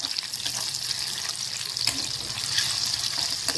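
Chicken pakoda pieces fry in hot oil with a loud, dense, continuous bubbling hiss that swells slightly partway through.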